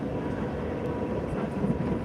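Train rumble at Belgrade central railway station, a steady low, dense roar that continues evenly throughout without any talk.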